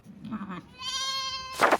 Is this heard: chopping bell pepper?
no